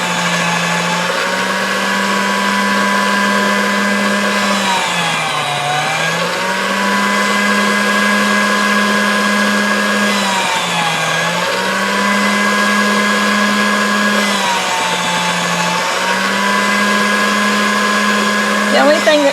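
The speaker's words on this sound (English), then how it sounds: "And then I'll roll it through the pasta machine." Soft polymer clay is rolled through a pasta machine, which gives off a loud, steady motorised hum close by. Its pitch dips briefly several times as the sheet feeds through.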